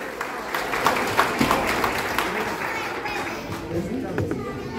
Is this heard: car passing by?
no